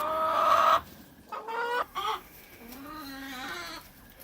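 Chickens in a chicken coop cluck and squawk close by, with a sharp loud call at the start followed by a few shorter clucks and softer, drawn-out murmuring calls.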